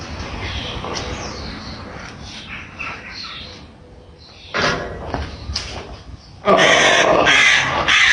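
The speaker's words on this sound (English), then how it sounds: "This is our crow." A crow caws near a home in Osijek, Croatia, in loud raspy bursts midway and then a rapid run of calls at the end, over steady outdoor background noise.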